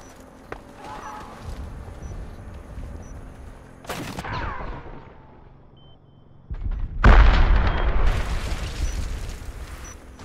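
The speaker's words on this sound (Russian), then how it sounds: "Граната!" Gunfire and explosions sound in a round of the shooter game Warface, with sharp bursts and booming blasts separated by quieter stretches, including a heavy detonation near the end, mixed with game ambience.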